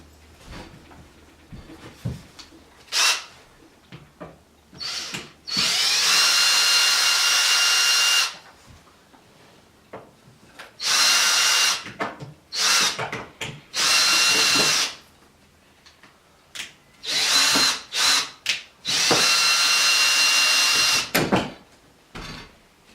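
A power drill unscrews the back panel of a home server case, giving several sustained whirring bursts of a few seconds each. Between them come short clicks and handling clatter from the metal case.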